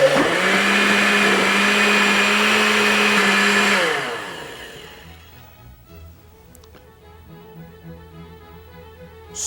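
A blender whirs loudly for about four seconds, blending salty lassi made with water and dry-roasted, freshly ground cumin seeds, then cuts off and winds down, leaving a quiet room with faint clinks.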